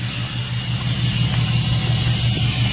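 A 2008 6.7L Cummins diesel truck engine idles with the exhaust brake on, a close, steady, deep rumbling drone that holds unchanged throughout.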